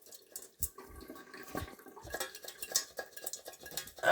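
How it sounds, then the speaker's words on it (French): Pan being shaken in a home kitchen while making carbonara pasta, with water sloshing and metal clanking in irregular bursts, fairly close and moderately loud. "Après, on secoue la poêle."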